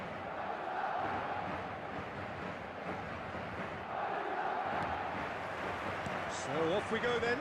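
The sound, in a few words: stadium crowd in eFootball 2026 video game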